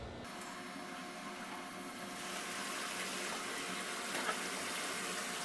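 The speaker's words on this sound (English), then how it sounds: "Now we're gonna start draining the boiler." Water drains steadily from an oil-fired boiler after its cold feed is shut off, a continuous broadband rushing and trickling that swells slightly louder after a couple of seconds, close by and with no voices.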